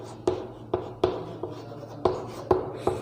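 Chalk taps and scrapes on a classroom board during a genetics lesson, seven short distinct strokes in an uneven rhythm, close and fairly loud with a faint room hum behind.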